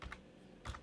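Two short bursts of computer keyboard keystrokes entering a coordinate, quiet and close, separated by a brief pause, with no talking.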